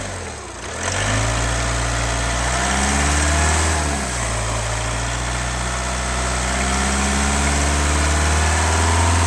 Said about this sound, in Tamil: சார் வண்டியை ஆக்சிலரேஷன் பண்ணுங்க, ஒரு 2000 வரைக்கும் ஆக்சிலேட் பண்ணுங்கள்.